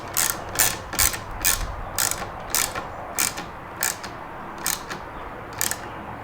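A ratchet tightening a screw on an Audi S5 sunshade bracket, about a dozen crisp, evenly spaced clicking bursts close up.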